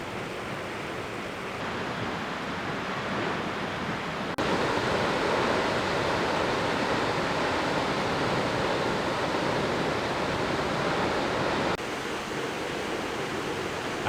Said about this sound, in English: We decided to go for a little walk to see the falls anyway, because apparently they're supposed to be very beautiful.